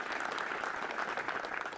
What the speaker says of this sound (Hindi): तो अपने लिए भी जोरदार तालियां बजाइए